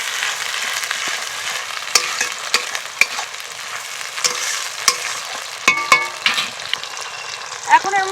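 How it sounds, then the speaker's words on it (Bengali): A sauce mixture with a spoon of salt is stirred in a hot frying pan, a steady oily sizzle broken by intermittent scraping and clacking strokes of the spatula, close and fairly loud, with no voices. "এগুলো একটু ভালো করে মিশিয়ে নেব।"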